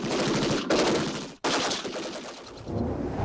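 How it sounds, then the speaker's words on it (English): Rapid bursts of machine gun fire rattle loudly and close, two sustained volleys split by a brief gap, with echoing reports trailing off in a WWI battle scene at Gallipoli. "sure enough, a machine gun was started."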